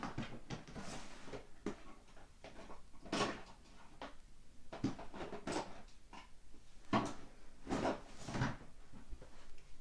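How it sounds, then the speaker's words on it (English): A drawer is pulled open and rummaged through for craft supplies, giving a series of soft wooden knocks, slides and rattles in irregular bursts, close by with no talking. "Let me grab them out of my drawer."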